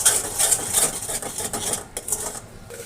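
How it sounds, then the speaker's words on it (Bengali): A sweet fried puffed-rice mixture is stirred in a pan over a low flame: close, irregular scraping and clinking of a spoon against metal, rising and falling in short strokes. "একদম লো ফ্লেমে রেখে নাড়তে থাকবো"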